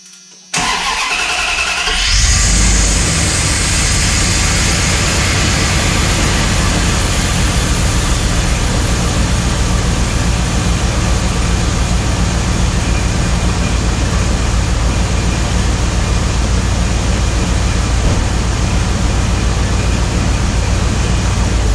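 A second-generation Ram pickup's engine, just fitted with new spark plugs, cranks briefly, catches, then settles into a loud, steady idle that runs uninterrupted for about twenty seconds.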